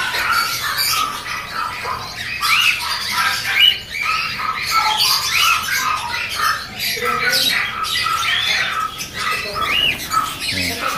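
Firetail finches in an aviary give repeated sharp squawks and chirps in quick bursts, busy and fairly close, with soft rustling beneath.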